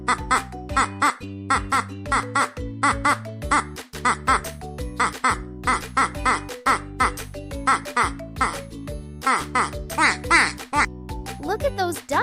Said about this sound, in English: Look at those ducks! Ducks love to splash around in the water